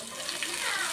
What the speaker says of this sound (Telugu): ఫస్ట్ మేము పోపు చేసుకుంటున్నాము